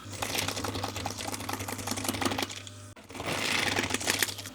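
An industrial sewing machine runs in fast bursts stitching a plain seam in auto upholstery, rattling steadily, pausing briefly, then running again for the back tack, close and loud with no voices.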